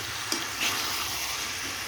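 Potato and mutton curry sizzling in a pot while being stirred, a steady close hiss with a couple of brief scraping strokes.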